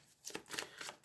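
Tarot cards being shuffled by hand, a quick close riffle of soft papery whooshes and flutters in a quiet room, with no talking.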